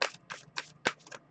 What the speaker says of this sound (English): I want to shuffle it up